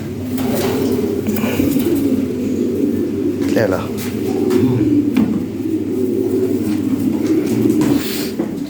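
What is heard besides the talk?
pigeons cooing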